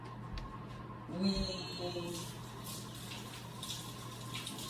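Hands are washed under a running tap in a kitchen while raw meat is being prepared, with a steady stream of water and a brief swell as the hands move through it. The sound is faint and close.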